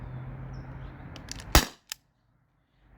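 A stock Gen 2 T4E HDP50 CO2 pistol fires one 2.7 gram ball in a single sharp, loud crack, with a fainter click just after, then quiet.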